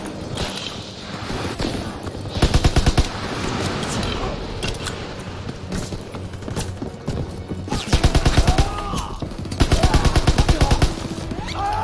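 Bursts of machine gun fire in the World War II shooter Call of Duty WWII, rapid rattling volleys repeating several times, loud and close, over continuous battle noise and shouted voices.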